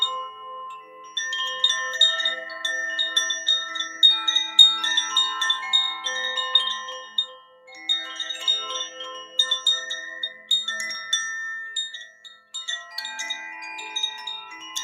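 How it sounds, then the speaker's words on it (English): Chimes ringing during a sound healing session: a continuous shimmering cascade of bright, overlapping metallic tones with gentle swells and brief pauses, clear and close with no voices. "chimes."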